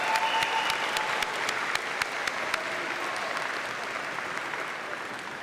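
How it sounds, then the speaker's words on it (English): A commencement audience claps for a college gospel choir, a dense burst of applause that starts full and slowly thins over several seconds, with a few sharp individual claps standing out. "join me for one more round of applause for our Plattsburgh State Gospel Choir."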